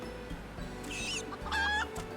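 Chickens clucking in the video game Final Fantasy XIV, a few short, soft clucks over a steady low in-game background hum, heard alone without talk.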